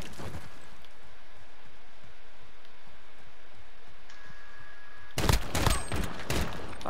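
Pistol fire in a 2v2 multiplayer shooter video game arrives as a sudden loud burst of shots late in the clip, after a long stretch of quiet game ambience.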